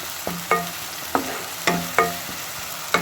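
Onions being sautéed until golden brown make a soft frying sizzle, broken by about eight sharp scraping strokes of a spatula against the pan, spaced unevenly and close by, with no talking.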